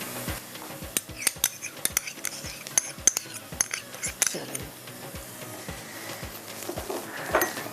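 Prawns frying in a pan as ginger and garlic go in, heard as steady metal clinks of a utensil against the pan over a low sizzle, with brief talk nearby.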